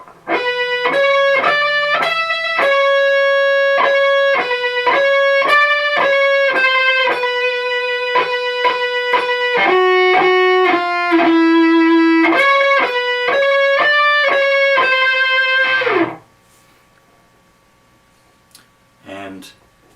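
Electric guitar, slightly distorted, plays the extended lead melody of a song as a run of clear picked notes in a steady rhythm, loud and close, ending abruptly into near silence with a brief faint noise after.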